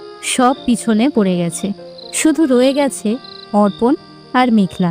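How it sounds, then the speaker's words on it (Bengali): Crickets chirp at night in a quiet, open field under faint moonlight, a thin, steady, high drone running faintly beneath continuous narration. "ঝিঝি পোকার ডাক"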